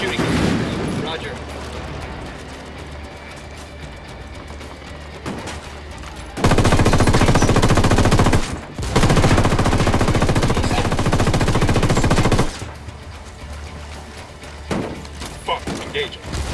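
Loud sustained automatic gunfire from the Ghost Recon Wildlands video game comes in two long bursts, with a brief gap between them. Scattered lighter shots and game ambience come before and after, and voices talk over it.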